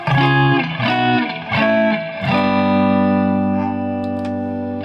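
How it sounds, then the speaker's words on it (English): Distorted electric guitar chords through the spring reverb setting of an Electro-Harmonix Oceans 3-Verb pedal ring out, each strike followed by a splashy, drippy reverb tail; the last chord sustains and slowly decays. "Okay, so this is spring reverb."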